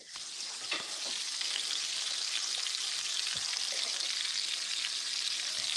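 Onions and mushrooms sizzling in a pan for a baked potato topping, a steady close crackling hiss with small pops and spits throughout, no talking.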